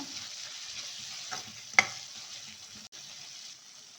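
Coriander and cumin powder fry in a pan for mushroom gravy, giving a steady soft sizzle with faint stirring scrapes and one brief sharp clink partway through.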